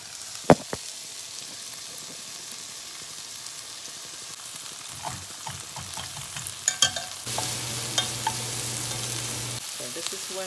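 Shrimp broth heating in a pan for shrimp fried rice, with a bubbling sizzle, scattered clicks and utensil knocks, then a louder steady hiss with a low hum in the final seconds.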